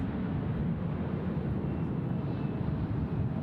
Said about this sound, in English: Velocity 738 just about over our heads, and we'll see the touchdown on this one.